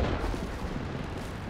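A tank gun fires once in World of Tanks, from a Type 59 match: a single deep, rumbling boom that rolls and fades over a second or so, with no talk over it.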